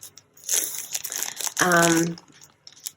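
Paper card pieces are handled and fussy cut for card making, with crisp crinkling and rustling close up, ending in a brief louder crumple.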